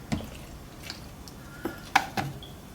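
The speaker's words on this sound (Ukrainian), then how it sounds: "І додаємо 113 грам охолодженої води" Chilled water, 113 grams, going into a baguette dough mix of wheat flour and yeast, giving a few soft, scattered drips and small splashes, quiet and close.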